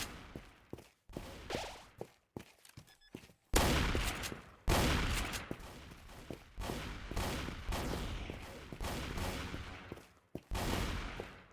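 Rapid gunfire in a Roblox shooting game, with dense bursts and sharp single shots close up, loud throughout with brief gaps between volleys.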